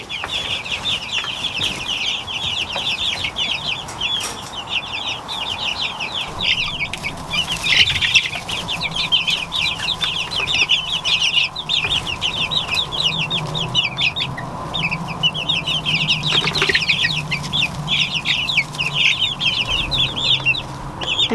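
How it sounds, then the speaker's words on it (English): Farm chickens, young birds raised from an incubator out of the home flock, cluck and chirp busily and continuously nearby, with bursts of wing flapping and a low steady background, and no talking. "These are our incubator chicks from our flock."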